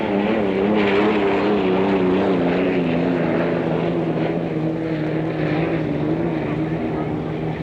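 Unlimited hydroplane Miss Seattle Too, driven by Dallas Sarts, roaring at the start of its qualification run on the water, a loud steady drone with a wavering pitch throughout while a commentator talks.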